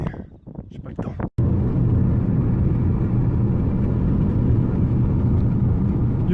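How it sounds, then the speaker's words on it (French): A car approaches on a road in New Zealand, its engine and wind noise swelling into a loud, sustained roar close by after a brief burst of talk at the start. "La voiture qui arrive, je vais vous laisser."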